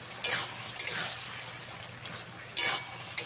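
Poppy seed paste being stirred into ridge gourd and potato in a pan: four short scraping strokes of a spoon, close and moderately loud, separated by quiet stretches with a faint background hiss.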